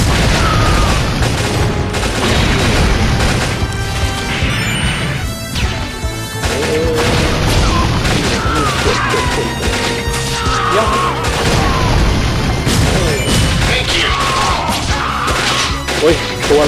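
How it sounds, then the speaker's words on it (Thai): Machine gun fire in the mobile run-and-gun game Metal Slug Awakening, heavy continuous bursts layered with crashes, explosions and game music, loud throughout with a short lull around the middle. "โอ้โหเป็นปืนกล"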